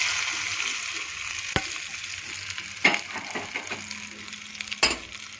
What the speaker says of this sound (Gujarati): તેલ ગરમ થઈ ગયું છે, થોડી રાઈ નાખી દઈએ। મીઠી લીમડી। મિત્રો, હવે ઉપરથી આપણે આવી રીતે વઘાર કરી દઈએ।